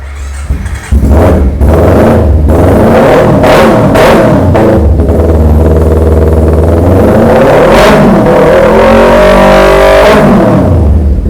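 A Kawasaki Ninja SS motorcycle engine revs hard and loud, with a booming exhaust that rises and falls through several throttle blips before settling into a steady roar, close and without talk.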